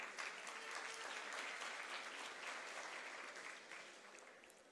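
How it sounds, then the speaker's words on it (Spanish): Sustained applause from an audience at a regional final event in Panama, a dense wash of clapping that holds steady and then slowly fades. "Fuerte el aplauso."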